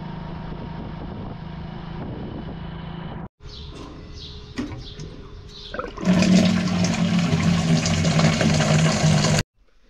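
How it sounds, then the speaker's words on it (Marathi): Water from a jar turned upside down gurgles and rushes out in a steady, close flow; after a brief pause come irregular glugs, then a louder sustained gushing that stops abruptly. "पाणी आणलं जारमध्ये असं पालतं केलं हे"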